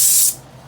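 A paint spray gun used on an exterior door gives a short, loud hiss that stops abruptly after a fraction of a second, leaving only faint room noise.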